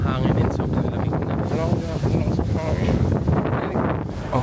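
Strong night wind in Tokyo near Tokyo Tower buffets the microphone with a constant roaring rumble while a person talks over it.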